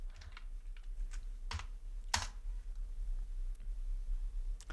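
Keys on a computer keyboard are typed while writing code, giving light, irregular clicks and taps. The sound is close but fairly quiet over a steady low hum, with no speech.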